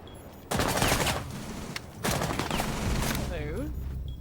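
Gunfire in a competitive esports shooter match rings out in loud, close bursts of rapid shots, with clattering effects between them and excited commentary over the top.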